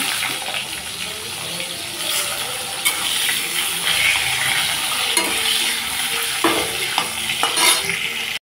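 Potatoes hiss and sizzle steadily in hot mustard oil tempered with nigella seeds, with scraping spatula stirs and brief clinks rising over the continuous frying close by.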